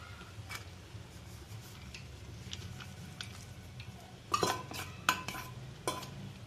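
Sweet rice with sugar syrup, cardamom and dry fruits being stirred in a pot: quiet, soft scraping movement, then a cluster of louder metallic clinks and knocks from the spoon against the vessel.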